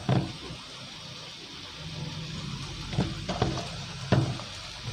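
Minced shrimp and glass noodles with dark soy sauce are stir-fried in a pan over raised heat, giving a steady low sizzle broken by a few distinct spatula scrapes and clatters near the end.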